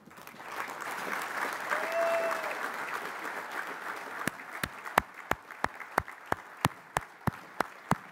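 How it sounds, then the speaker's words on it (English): A convention audience rising to applaud in memory of Chauncey Baker: a dense crowd of clapping at first, thinning into a slow rhythmic series of loud, evenly spaced single claps near the end. "by applause, let's recognize the life and the memory of Chauncey Baker"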